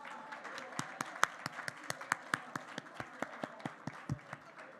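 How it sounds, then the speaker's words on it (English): Conference audience clapping together in a steady rhythmic beat after a pitch competition, around sixteen evenly spaced claps that blend into a faint crowd murmur, moderately quiet. "we're going to give one more round of applause for that pitch competition"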